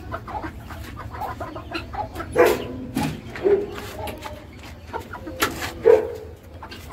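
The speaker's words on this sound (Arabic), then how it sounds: "ده دجاج الهندي حنين" Turkeys cluck and gobble in short, scattered bursts nearby, with a few louder calls standing out over a quiet background.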